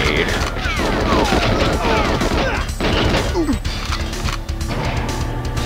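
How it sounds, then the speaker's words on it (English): Loud game combat from GoldenEye 007 on the Nintendo 64: a grenade blast and crashing impacts mixed with bursts of gunfire, dense and continuous across the clip with no pause. "I think he unpinned a grenade"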